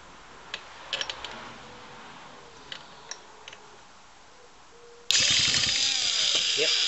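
Recoil pull-starter on a Ryobi string trimmer being yanked: faint scattered clicks and ratcheting ticks, then a sudden loud burst of rapid cranking rasp near the end.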